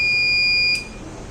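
Shrill continuous electronic buzzer tone from an industrial SCADA fence security alarm triggered by high current, steady and loud, then cutting off abruptly to leave background hum.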